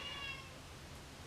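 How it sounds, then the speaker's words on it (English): A house cat meows to be let in from outside, a faint, fairly distant call lasting a moment over a steady background hiss, with no voices. "That's my cat. He desperately wants to come in."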